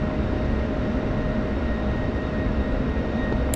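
Steady, loud drone of an aircraft engine on a five-mile straight-in final approach to runway 23 with landing gear down, in a flight simulator during a night training sortie; a continuous even roar with no talk.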